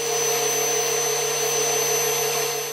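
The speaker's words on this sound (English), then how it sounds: "I just hit it with the grinding wheel at the base" A grinding wheel running against a car turn signal flasher relay makes a loud, steady, high-pitched motor whine that holds unbroken throughout.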